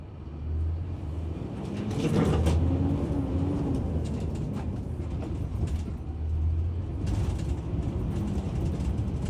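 A truck's engine labours up a hill as its wheels spin, a low droning rumble that swells and fades twice, rather faint and with no talk.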